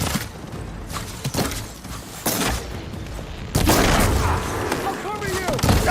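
Gunfire in the video game Horizon Forbidden West, with several loud booming shots and blasts amid battle noise, close and heavy, while voices shout over it.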